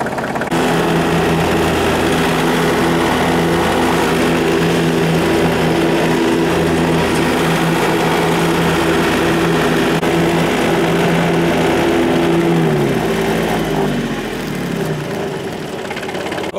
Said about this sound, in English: we'll get hitting this with the mower here